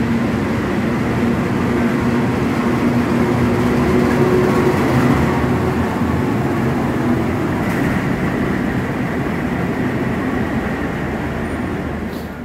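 A Lodaya passenger train being shunted toward the depot at Solo Balapan station rumbles steadily for the whole stretch, a continuous close rolling drone of wheels and carriages with no voices.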